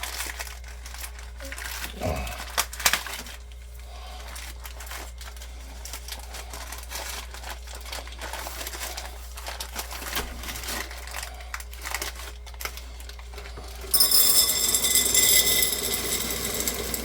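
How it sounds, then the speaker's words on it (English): A plastic bag of dry beans crinkles and rustles in irregular bursts as it is handled in a cabin pantry, and the handling grows louder and busier toward the end. "I'm just going to take a bag of beans."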